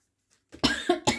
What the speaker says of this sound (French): vu que là je tousse